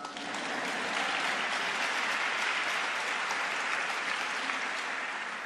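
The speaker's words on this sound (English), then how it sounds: "That's an applause line." Sustained applause from a ceremony audience honoring NASA's Hidden Figures at a Congressional Gold Medal event, steady and full for several seconds after a brief rise, with no talk over it.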